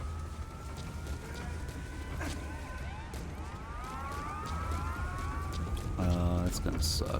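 Wailing police sirens in a video game sweep up and down in overlapping rising and falling tones over a steady low rumble, continuous throughout, with a brief stacked electronic alert near the end.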